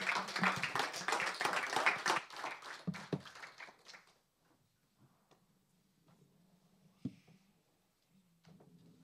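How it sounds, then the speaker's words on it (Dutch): Applause for panel members closing a city air-quality knowledge session: a burst of clapping from a modest audience, strong for about two seconds then thinning to scattered claps and fading out by four seconds, followed by near silence with faint room noise. "dan stel ik voor dat we de panelleden nog een welverdiend applaus geven"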